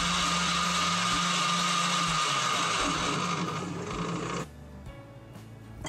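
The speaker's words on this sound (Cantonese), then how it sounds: "如果屋企有攪拌機，呢個步驟都好方便嘅啫，" A countertop blender whirs loudly and steadily while blending pandan leaves with water, its motor holding a constant pitch before shifting and then cutting out, leaving quieter clatter.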